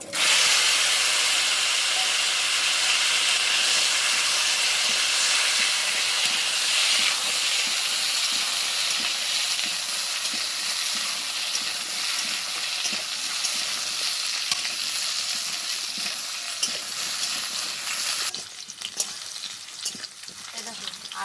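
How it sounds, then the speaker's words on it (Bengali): Potatoes and gathi kochu (taro) fry in oil as a loud, dense, continuous sizzle with steady hiss and faint scraping underneath. "এবার ওই তেলের ওপরেই আলু আর গাঠি কচুটা দিয়ে ভেজে নেব।"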